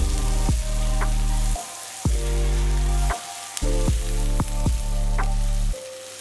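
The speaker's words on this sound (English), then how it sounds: "All right, let's add our shrimps." Shrimp sizzling loudly in a hot pan for Bicol Express, a steady frying hiss broken by several abrupt pauses and bursts as the pan is moved or stirred, close and with no talking.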